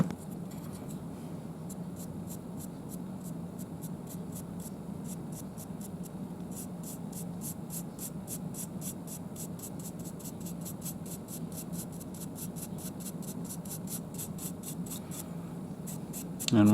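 Paintbrush strokes applying wood-coloured paint over the dark undercoat of a 3D-printed tabletop stadium: a faint, continuous dry scratching that keeps going steadily and alone throughout.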